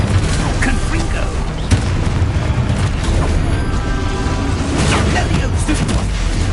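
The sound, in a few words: explosion from casting Confringo spell in a wizard video game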